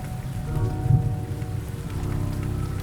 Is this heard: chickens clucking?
no